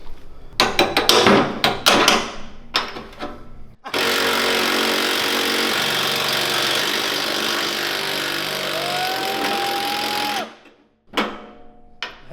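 A go-kart axle being worked on with an impact wrench and chrome socket: a few sharp clanks and taps, then a long loud continuous buzzing run of the wrench that stops abruptly, followed by a couple more clanks.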